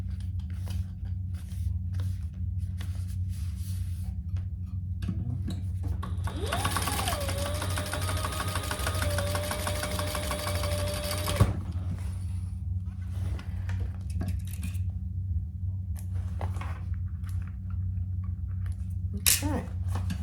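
A sewing machine top stitches a seam on a bag in one steady, fast buzzing run of about five seconds, set amid quiet handling noises and a low room hum.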